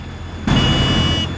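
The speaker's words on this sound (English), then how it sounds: "Here is Grampy Rabbit on his hovercraft." A loud hovercraft engine in a Peppa Pig cartoon suddenly roars up and holds a steady, buzzing drone with a high whine on top, close by.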